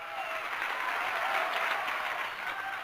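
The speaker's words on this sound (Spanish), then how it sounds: "Señoras y señores, aplausos de pie porque estamos con el doctor Silvio Martín" Audience at a live radio show taping delivers a sustained standing ovation, dense even clapping throughout with no talk over it.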